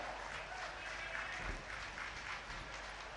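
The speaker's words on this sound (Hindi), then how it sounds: "जोरदार तालियां जरा।" Sustained applause from a crowd at the National Games kho kho event in India, dense continuous clapping filling the space evenly.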